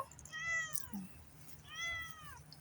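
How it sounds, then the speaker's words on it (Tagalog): A cat gives two clear, drawn-out meows about a second apart, close and fairly quiet over a low background hum. "Meow."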